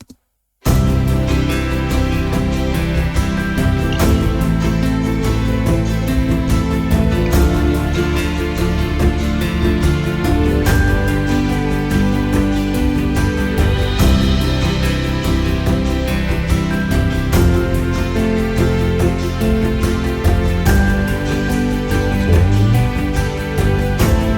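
A full music track plays continuously after a brief silent start, dense layered instruments with a steady rhythm throughout, no voices talking over it.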